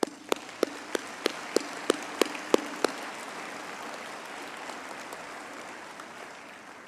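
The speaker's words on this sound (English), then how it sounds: "request all in attendance, parents and friends, to give you a big round of applause" Applause for graduates at a university humanities graduation ceremony: a crowd claps steadily in a large hall, with a few loud rhythmic claps standing out early before the sound settles into a broad, fading wash.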